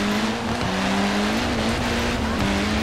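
A Peugeot 207 rally car races in Forza Horizon 4, its engine holding a steady, loud, close drone with a brief dip in pitch at a gear change, over constant road and tyre noise.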